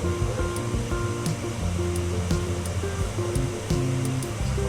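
Water pours over tomatoes in a cooking pot as a steady, continuous rushing wash, with background music playing throughout.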